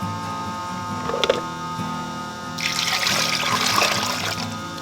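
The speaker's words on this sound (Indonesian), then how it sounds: "teman-teman siram air panas dulu" Hot water pours steadily into a container, a continuous splashing trickle that swells louder midway through, with a brief clink early on.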